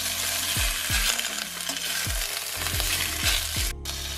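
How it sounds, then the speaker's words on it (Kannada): Mexican mint leaves frying in hot oil with pepper and cumin, a continuous bright sizzle with repeated spoon scrapes and stirring knocks in a steady rhythm. "ಇವಾಗ ಅದೇ ಎಣ್ಣೆಗೆ ಬೆಳ್ಪತ್ರೆ ಸ್ವಲ್ಪ ಹಾಕೊಂಡು ಹುರ್ಕೊಳ್ಳೋಣ"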